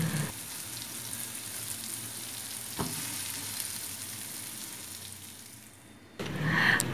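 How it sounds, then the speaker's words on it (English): Egg dish ingredients stir frying in a pan, a steady loud sizzle with scraping stir strokes and a brief knock, then a louder burst of sizzling near the end, without talk. "we're going to just stir fry this until it is slightly cooked"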